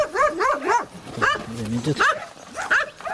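Several dogs bark repeatedly in the village of Sharchino, close and fairly loud, in quick overlapping bursts while someone speaks briefly over them.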